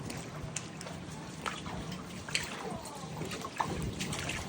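Floodwater after a storm in Oliva Nova, with a steady trickling and splashing of water running continuously through the scene, and a few louder splashes rising above the flow.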